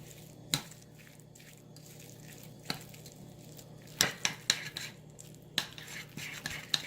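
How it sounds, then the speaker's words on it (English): Garlic butter being mixed with parsley and salt in a bowl: soft squishing and scraping with sharp clicks of a utensil against the bowl, close and irregular, with no talking. "just give everything a good mix just until combined."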